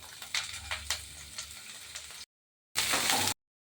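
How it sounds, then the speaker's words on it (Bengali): Onions frying in hot oil with whole cumin seeds in a Bengali kitchen, a close crackling sizzle with scattered pops and stirring scrapes that cuts out briefly, then returns as a short, loud burst of hiss. "পেঁয়াজগুলো ভাজা হয়ে গিয়েছে"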